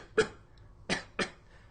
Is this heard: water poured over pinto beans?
no